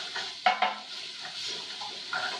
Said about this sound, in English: So let's keep stirring because we don't want the rice, like I said, burn.